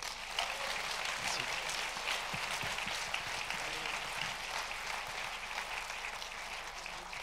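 An audience at a film festival award ceremony applauds a jury prize, producing a steady, sustained wash of many hands clapping, heard from the middle of the hall and staying even throughout.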